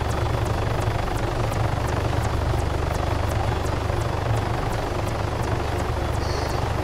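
Helicopter in the video game Arma 3, a continuous loud rotor and engine drone with a rhythmic blade chop throughout, heard alone without talk.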